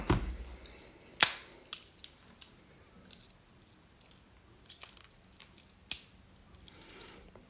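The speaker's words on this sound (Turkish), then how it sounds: "Burada emniyet bantları var. Onları hemen kesiyoruz." A few sharp snips and clicks of cutting safety tape on a smartwatch box, close up, followed by light rustles and small taps.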